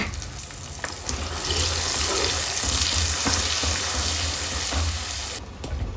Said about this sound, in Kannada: ರುಬ್ಬಿ ಇಟ್ಕೊಂಡ ಟೊಮೆಟೊ ಈರುಳ್ಳಿ ಪೇಸ್ಟನ್ನು ಹಾಕ್ಕೊಂಡು ಚೆನ್ನಾಗಿ ಫ್ರೈ ಮಾಡ್ಕೋಬೇಕು